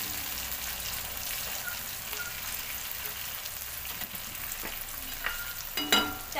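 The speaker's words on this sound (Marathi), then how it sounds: "आपल्याला टोमॅटो सॉफ्ट होईपर्यंत परतून घ्यायचा आहे।" Onion and tomato sauté in a pan for dhaba-style egg bhurji with a steady, moderate hiss of frying. Occasional scrapes of stirring sharpen into a louder clatter at the end.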